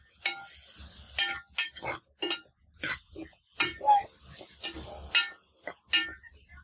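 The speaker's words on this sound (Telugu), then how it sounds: "తాలింపు గింజలు, ఆవాలు, జీలకర్ర కొన్ని వేసుకున్నాం కదా, అవి వేగుతున్నాయి చూడండి." Mustard and cumin seeds crackling in hot oil for tempering a drumstick-flower curry, heard as scattered sharp pops and small clinks at irregular intervals against a quiet background.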